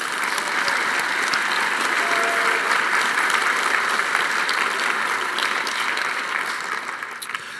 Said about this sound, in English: Another round of applause for our partners.